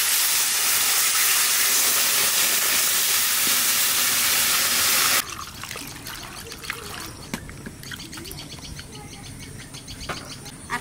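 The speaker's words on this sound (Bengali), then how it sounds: "ডাল ভাজা হয়ে গেছে, আনে জল দিয়ে দেবো।" Water poured into a pan of fried lentils produces a loud, continuous rushing hiss for about five seconds, then cuts off abruptly, leaving quieter bubbling, trickling and scattered clicks.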